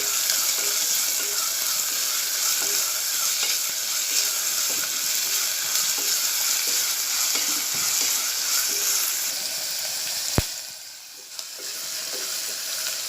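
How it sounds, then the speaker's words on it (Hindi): Onions frying in hot oil for mutton keema samosas make a constant crackling sizzle. A short sharp clack sounds near the end, and after it the sizzle briefly drops. "प्याज को नरम होने तक हम तेल में तलेंगे।"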